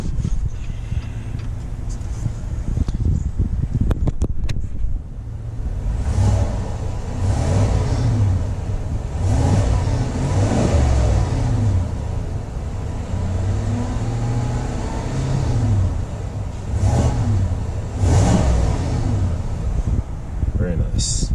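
A 2021 Chevy Silverado Z71 Trail Boss pickup's engine idles with a steady low rumble and swells in several revs, the throttle blips rising and falling at a moderate distance.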